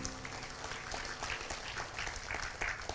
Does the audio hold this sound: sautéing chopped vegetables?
no